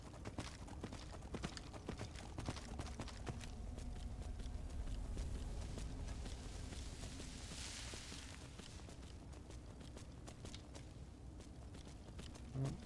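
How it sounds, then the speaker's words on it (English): Undead horse hooves clip-clop in the video game Skyrim, a faint, continuous patter of steps under a broad wash of ambient game noise, with no talking. "Kind of obnoxious that a horse that's undead has such low stamina."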